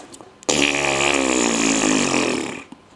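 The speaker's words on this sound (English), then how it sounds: "let off a little fart there, hit done, and now it's in the system" A single long, loud fart is recorded into a phone fart app: a buzzing, rumbling blast that lasts about two seconds and then tapers away, with no voices.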